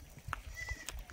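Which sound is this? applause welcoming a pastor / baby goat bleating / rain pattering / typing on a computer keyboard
baby goat bleating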